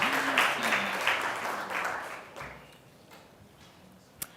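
An audience applauds speakers walking onto the stage at a university doctoral school showcase. The clapping starts loud and dense, then fades to scattered claps under a voice, and a single sharp knock comes near the end.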